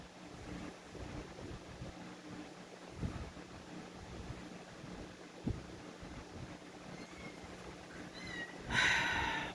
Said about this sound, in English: My cat Joey's meowing again.